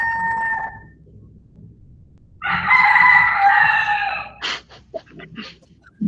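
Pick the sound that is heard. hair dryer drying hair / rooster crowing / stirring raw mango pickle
rooster crowing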